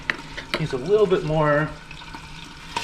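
A spoon stirs a thick blue cheese sauce for buffalo wings in a bowl, giving soft wet swishing and sizzle-like scraping under a man's close, steady talk.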